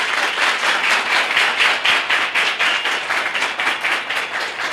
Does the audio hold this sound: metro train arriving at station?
no